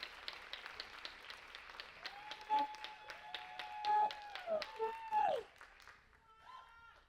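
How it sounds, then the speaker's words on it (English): Faint, scattered clapping from an audience at an education and community event in Los Angeles, rising in a few louder bursts before fading, with a thin high tone drifting through the middle. "So I ask you to give Dr. Peter Watts a round of applause."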